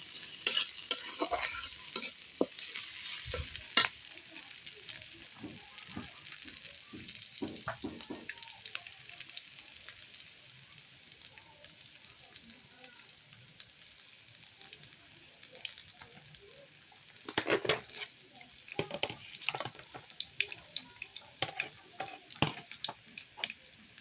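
Goat and chicken meat with spices fry in a pot over a clay stove, with repeated spoon scrapes and clatters of stirring over a soft, intermittent sizzle; no voices.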